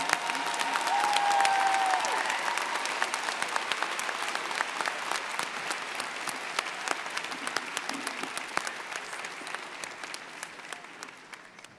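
Sustained applause from a large crowd at a university commencement ceremony, steady and enthusiastic, slowly tapering off toward the end.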